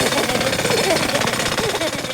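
A jackhammer rattles in a fast, steady, continuous pounding that stays loud and even throughout, with no pauses.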